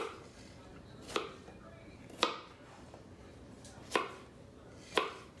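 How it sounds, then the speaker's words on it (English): Onions are chopped with a knife on a board, four sharp, separate knocks spaced about a second apart, close and fairly quiet against a low background hum. "I'll chop those a little bit more"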